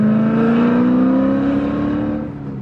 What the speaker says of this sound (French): On va descendre aux secondes, une dernière accélération